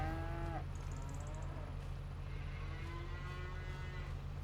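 Cows mooing in the farming game Farmland, with several long drawn-out lowing calls one after another over a steady background hum of game sound.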